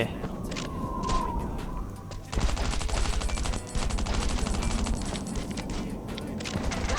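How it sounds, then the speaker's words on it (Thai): Rapid bursts of automatic gunfire in the video game Last Island of Survival crackle continuously, loud and dense, with a brief pause before the shooting resumes; a faint siren-like tone runs underneath. "อุตส่าห์ยิงปืนหนักตาย"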